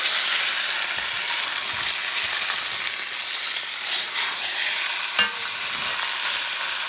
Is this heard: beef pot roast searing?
yes